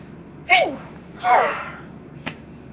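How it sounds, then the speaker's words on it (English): A person sneezes twice in quick succession, two loud bursts close to the mic, followed a moment later by a short, faint click or sniff. "It starts sneezing."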